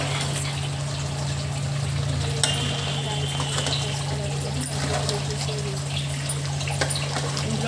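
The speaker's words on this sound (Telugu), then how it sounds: "ఇందులో కర్రీకి తగినంత వాటర్ పోసుకోవాలి." Water is poured into a Natukodi country chicken curry, a steady trickling pour over a low hum from the cooking pot, with a brief clink partway through and a voice speaking faintly underneath.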